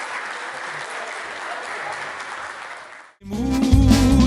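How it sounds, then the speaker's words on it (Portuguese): Applause for the Lenhadores do Paudalho club at a farewell event for its president, a loud, dense wash of clapping for about three seconds before it cuts abruptly to music. "Eu quero pedir mais uma vez palmas para Calbi e palmas para os Lenhadores."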